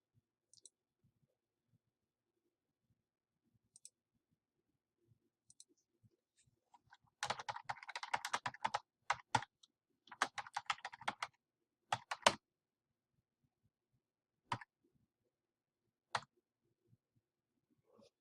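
Computer keyboard typing in a quiet room, a few stray taps, then dense bursts of rapid keystrokes entering a company name, trailing off into isolated clicks.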